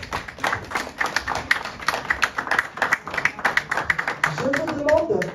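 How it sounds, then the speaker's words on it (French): An audience claps for Mamassi at a Koffi Olomide event, a steady rhythmic patter of hands over several seconds with a voice rising near the end. "Est-ce qu'on peut applaudir pour sa présence?"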